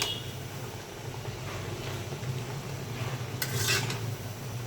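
Sweet pumpkin leaves and a rohu fish head get stirred in a pot, a soft scraping and shuffling under a low background hum, with a brighter clatter of the utensil near the end.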